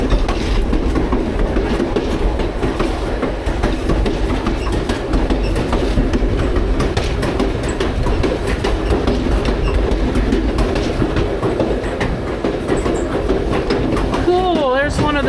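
Reading & Northern passenger train rolling through Tamaqua Yard, with steady loud wheel rumble and clickety-clack from inside the car, brief wheel squeal near the end, and faint voices in the background.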